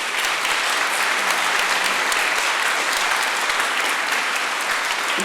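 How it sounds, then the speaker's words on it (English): Audience applause for a high school choir quartet at a December choir concert: dense, steady clapping from a full crowd, sustained at an even level throughout with no voices on top. "Would you give them a round of applause?"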